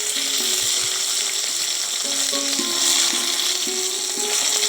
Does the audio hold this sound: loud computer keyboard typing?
no